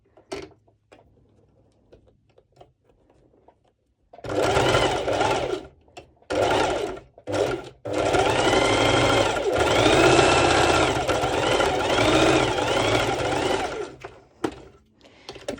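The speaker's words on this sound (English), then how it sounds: "now I'm definitely sewing over the 4 layers" A sewing machine stitching through four layers of fabric for a sporty racerback top, several short runs of rapid mechanical whirring and then one long continuous stretch, loud and close, with brief quiet gaps between runs.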